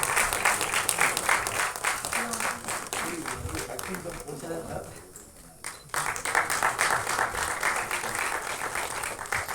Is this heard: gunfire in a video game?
no